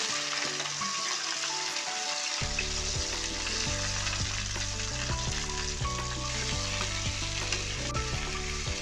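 Sliced okra tossed into a pan of oil with garlic, sizzling loudly and steadily while a utensil stirs and scrapes in repeated strokes; music plays underneath and no one speaks.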